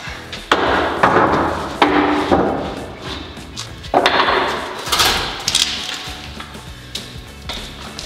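Large pieces of wood are tossed one after another onto a pile while a timber storage shed is being built, giving several loud, sharp clattering impacts spaced irregularly with rattling wooden knocks between them, close by, with no talk.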